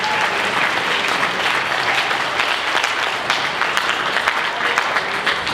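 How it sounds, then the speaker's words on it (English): A crowd at a volunteer fire department's 50th anniversary awards ceremony gives a sustained round of applause, many hands clapping in a thick, even roar that stays loud throughout with no speech over it. "let's give them a round of applause"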